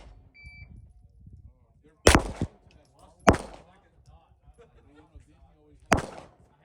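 Three sharp, loud gunshots from a pistol-caliber carbine, Springfield Armory Kuna or Grand Power Stribog SP9 A3, spaced a second or more apart, with quiet chatter and ambient noise between shots.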